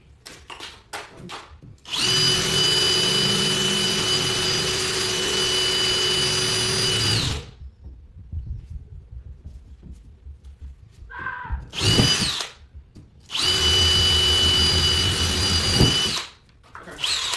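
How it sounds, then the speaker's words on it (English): A power drill whirs loudly in two long sustained bursts, separated by a pause with faint handling noise and a brief rev between them. "The drill is for the inside of the star."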